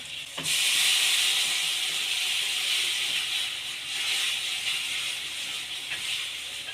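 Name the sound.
poppy seed and green chilli paste sautéing in pan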